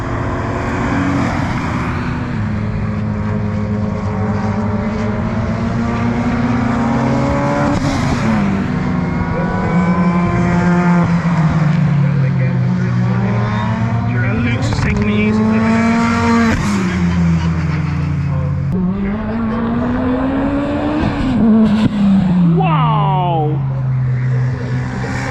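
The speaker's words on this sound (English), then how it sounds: "Andy Grady in the Mitsubishi EVO 9." A Mitsubishi Evo 9 time attack car with a DSG gearbox laps Anglesey circuit, its engine climbing through repeated rising revs with quick gear changes and drops, loud and close.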